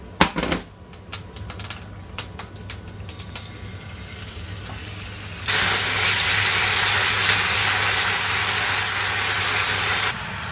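Marinated venison for an Asian stir fry hits a hot oiled pan, bursting into a loud, steady sizzle after a few seconds of light clatter and clicks, then cutting off abruptly.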